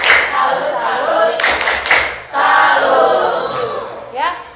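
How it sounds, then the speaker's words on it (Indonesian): Students in an Indonesian classroom clap together in a rhythmic cheer led by a teacher, with bursts of applause and voices chanting along. "Kita kasih tepuk salut. Tepuk salut."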